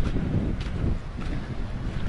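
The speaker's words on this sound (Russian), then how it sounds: "ветер такой продуваемый," Strong wind buffets the microphone on an open seashore at the Budak spit near Zatoka, Odesa region, with a loud, continuous low roar and gusty swells and no voices.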